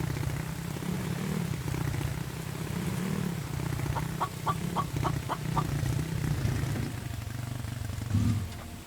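Chickens on a farm in a survival video game, The Infected, give a quick run of about six clucks in the middle, heard over a constant low engine-like drone.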